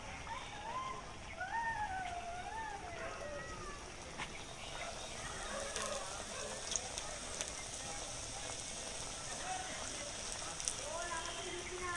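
Mon kara nimki dough frying in hot oil gives a soft, steady crackling sizzle, fairly faint, while a cat meows repeatedly over it nearby.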